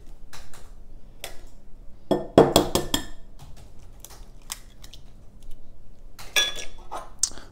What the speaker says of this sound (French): On commence par casser nos 2 œufs dans un saladier, comme ceci.